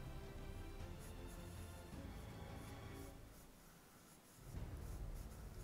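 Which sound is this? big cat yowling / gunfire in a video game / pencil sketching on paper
pencil sketching on paper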